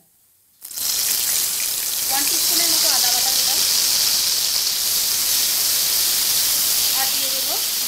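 Ginger paste dropped into a hot pan for a green peas kochuri filling bursts into a loud, sustained sizzle after a brief silence, with a voice speaking faintly underneath.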